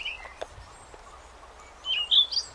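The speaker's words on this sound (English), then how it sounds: "This is not a seagull, as it might seem at first glance, but a kelp gull" A kelp gull on the coast gives a few faint, high calls late in the clip over a quiet background hiss.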